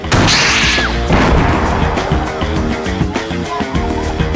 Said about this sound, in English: This is an RPG rocket launcher.